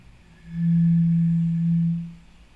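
A single breathy, hollow low tone from blowing across a glass bottle, swelling in, holding steady for about a second and a half, then fading.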